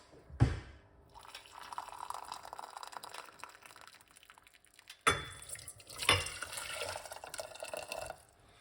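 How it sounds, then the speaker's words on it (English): Water splashes and trickles into a pot, with a clunk of cookware, a pause, then another burst of pouring and sloshing. "going to put some water in the pot."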